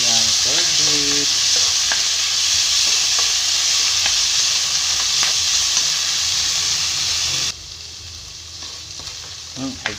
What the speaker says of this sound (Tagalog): Igisa natin ang corn beef.